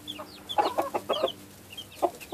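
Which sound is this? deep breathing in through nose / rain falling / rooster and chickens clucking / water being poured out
rooster and chickens clucking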